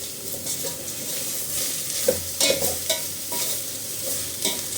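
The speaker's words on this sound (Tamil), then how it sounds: "எல்லாம் ஒன்று சேர்ற மாதிரி கலந்து விட்டிங்கனாலே போதும்." Grated cucumber being stirred into rice in a hot pan, a soft continuous sizzle under repeated scraping strokes of a spoon for a few seconds, close and fairly quiet with no talk.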